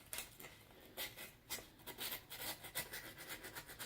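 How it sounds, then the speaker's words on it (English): Sandpaper rubbed by hand over rusted metal, a steady rasping scrape in repeated short strokes, close and fairly quiet with no talking. "Just got to sand it off, get all that rust off of it."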